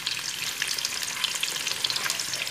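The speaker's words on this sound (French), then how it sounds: "Je vais ajouter donc la viande. Bien sûr, à feu moyen." Meat frying in butter in a pan over medium heat, a continuous crackling sizzle with small irregular pops, fairly close and with no voices.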